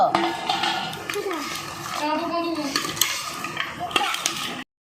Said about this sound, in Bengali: এই দেখুন আমি মিশিয়ে নিচ্ছি